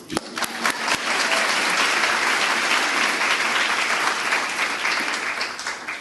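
A convocation audience at the San Diego Central Library breaks into sustained applause, a dense steady wash of clapping that swells quickly and holds for several seconds with no speech over it.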